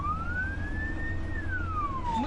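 An ambulance siren wails in a single slow rising and falling sweep, steady and fairly loud over a low traffic rumble, with no voices.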